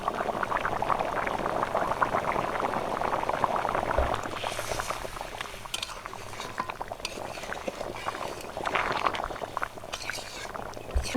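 A pot of young goat mutton curry with a thin gravy bubbles on the stove, making a steady, close simmer with soft popping and no talking.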